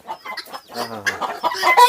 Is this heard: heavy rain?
no